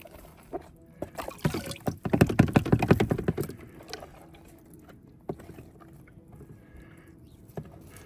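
Water swirls gravel around a gold pan while panning in Gold Hill, Nevada, with a burst of rapid gritty rattling and clicking in the middle, then quieter sloshing and occasional taps.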